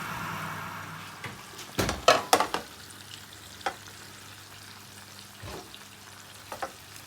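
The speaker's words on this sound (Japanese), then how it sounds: "熱くなっている状態のオーブンに入れてロティしていきます。" Saddle of lamb on the bone, with its fat already rendered, roasting in a 180-degree oven. It sizzles and spits softly throughout, with a few louder pops and clatters near the start.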